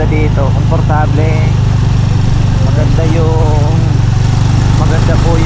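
A motorcycle engine runs steadily and loudly close by during a land tour around Dumaguete, a continuous mid-pitched drone with wind noise, while people talk over it throughout.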